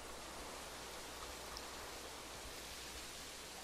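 Steady rain in the video game Minecraft, a faint, even hiss of falling water that runs unbroken from start to finish with no talking over it.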